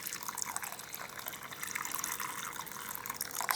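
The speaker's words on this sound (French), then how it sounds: "Voilà, je mets de l'eau bouillante." Boiling water poured steadily from above onto organic honey in a cup for an infusion, a continuous bright splashing and gurgling stream heard close and alone throughout.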